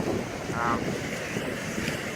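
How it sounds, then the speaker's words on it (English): Steady wash of surf and wind noise outdoors, fairly faint and continuous, with a brief tonal whine and a hint of a distant voice. "got a lot of surf splashing up"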